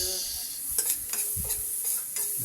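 Garlic and onion sauté in butter in a pan, a soft sizzle broken by scraping stirring strokes from a utensil at a slow irregular rhythm, close and fairly quiet.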